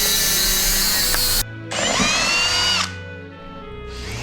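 A power drill with a Forstner bit bores into wood in two loud bursts, whining at high speed, separated by a brief pause before a quieter spin-down.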